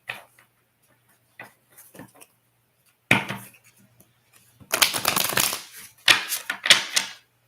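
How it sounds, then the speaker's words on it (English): A deck of oracle cards shuffled by hand, heard as sparse soft ticks and taps followed by several dense, crisp riffling bursts, close and fairly loud, with no talking. "let me finish the shuffle here"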